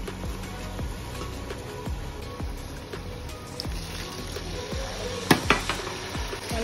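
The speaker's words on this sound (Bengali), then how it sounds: "আমি একটু মশলাটা ভালোভাবে কষিয়ে নিব।" Turmeric, chili, cumin, coriander, garam masala and ginger-garlic paste sizzling in a pan while being stirred, a steady close fry with repeated scraping strokes and a few sharper clinks of utensil against the pan.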